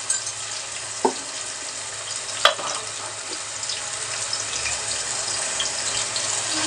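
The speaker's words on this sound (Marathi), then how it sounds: "ते आपण तेलामध्ये चांगलं परतून घेऊया" A paste of ground ginger, garlic, coriander and curry leaves fries in hot oil for Malvani dry liver, giving a steady close sizzle broken by a couple of sharp stirring knocks, with no talking.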